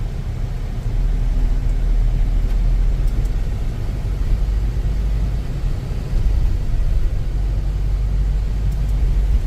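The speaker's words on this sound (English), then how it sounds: "Traffic's a bit heavy around Courtney Place" Heavy road traffic in Wellington city around Courtney Place, a continuous low roar of passing vehicles with steady rumbling engine noise and no voices.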